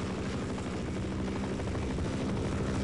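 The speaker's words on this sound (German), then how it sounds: "Der Helikopter ballert wild rum." A helicopter in the video game Half-Life drones with a steady, fairly loud rotor and engine rumble throughout, with no distinct gunshots standing out and no talking.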